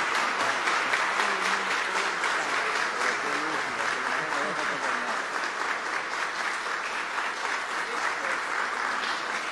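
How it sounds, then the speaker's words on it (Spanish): Dense standing applause from guests in the Salón de las Cariátides of the National Palace after a poem recital, steady clapping lasting nearly ten seconds with murmured voices beneath. "Aplaudiendo la sabiduría, el arte, la brillantez de nuestra adorada María Cristina Camilo"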